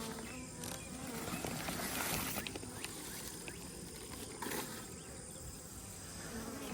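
Honeybees buzz around a colony bearding on the front of a hive box set 40 feet up at an old church, a faint, continuous drone of many wings with occasional louder passes close by, no voices.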